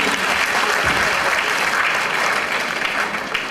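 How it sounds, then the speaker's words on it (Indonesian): A seated audience at a business presentation gives loud, dense applause, a steady wash of many hands clapping that holds evenly from start to finish without talk. "saya minta tepuk tangan dulu untuk Bapak Ibu sekalian. Ya, tepuk tangan lagi."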